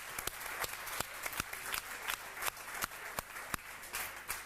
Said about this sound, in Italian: Un applauso a Luciano.